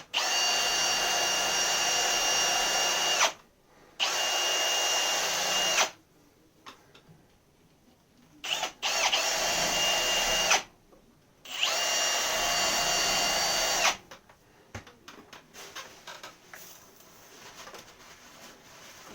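A wire brush spun by a power drill scrapes rust from the wheel stud holes of a Mini Cooper R50, running in loud, steady bursts of a few seconds with short pauses between, then trailing into lighter, scratchy working near the end.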